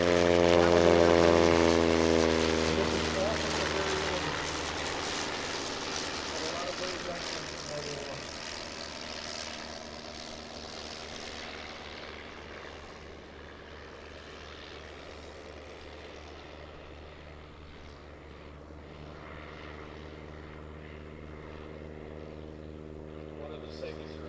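A World War I-era propeller airplane roars past at an air show, loud and close at first, then fading to a steady distant drone with a noticeable pitch drop as it moves away.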